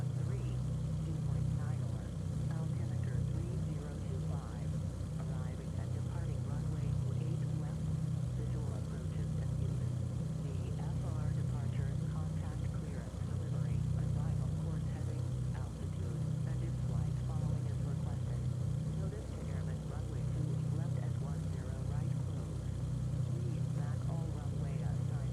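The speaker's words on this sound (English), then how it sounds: "the engines are pretty loud" Aircraft engines in the X-Plane 11 flight simulator game drone steadily and loudly with a deep, unbroken hum for the whole stretch, while faint voices murmur underneath.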